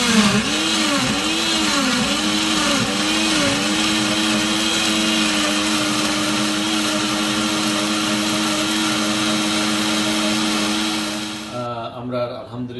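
An electric juicer runs steadily, pressing bitter gourd (karela) into juice, with a loud continuous motor whine that cuts off near the end, followed by brief handling noise.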